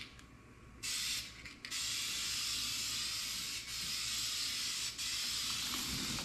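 Loud close hissing of an aerosol spray can spraying into a small throwaway cup, a short burst then a long sustained spray with brief dips, the nozzle released near the end.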